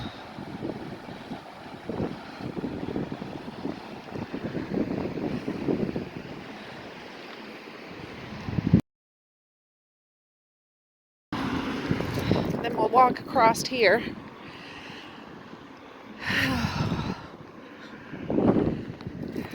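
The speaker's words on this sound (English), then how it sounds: "Hopefully you can hear me, but it's windy." Gusty wind buffets the microphone with a low rumble while a person speaks outdoors, broken by a brief silent gap.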